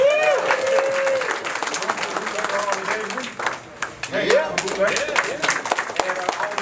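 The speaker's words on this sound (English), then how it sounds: "Can I get a hand clap for my family?" Crowd clapping at a motorcycle charity ride event at a Harley-Davidson dealership, a burst of applause and cheering mixed with someone speaking over a loudspeaker, with the talk continuing as the clapping thins.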